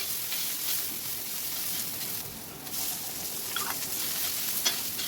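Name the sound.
sliced onions sizzling in hot oil in iron karhai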